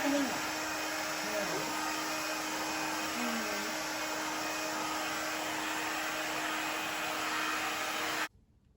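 Heat gun melting crayons on a canvas, a steady loud blowing whoosh with a constant motor hum throughout, running unbroken for several seconds before stopping abruptly.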